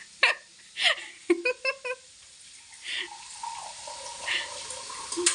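A girl draws water from a household tap, bursts of running and splashing water mixed with short breaths and faint laughter, close by.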